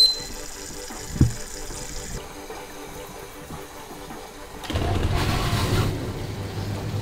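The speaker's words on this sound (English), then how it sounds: "I can hear some water flowing." Water flowing inside a transparent dishwasher during a test run, a faint trickle and hum that swells into a louder rushing spray near the end, close by with no voices.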